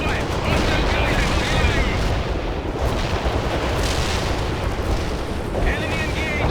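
Heavy gunfire and explosive bursts from an attack helicopter making a flyby strike in the World in Conflict video game, a dense, loud continuous barrage with brief radio-style voices over it.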